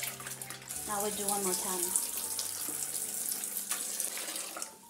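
Dyed silk fabric being rinsed under a running tap, a steady splashing water stream filling most of the clip, with someone speaking briefly over it.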